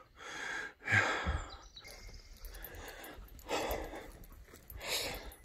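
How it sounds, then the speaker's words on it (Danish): An older man groans and pants heavily after cycling up a steep hill, with ragged breaths, a sharp strained gasp early on and several long exhalations, close and alone. "undskyld, jeg stønner sådan"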